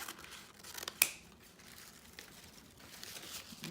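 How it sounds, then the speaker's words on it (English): Scissors snip once through ribbon while making an angled cut during a pink Christmas wreath craft, a single sharp cut standing out against quiet room noise with no talking. "So let's take the ribbon and let me cut"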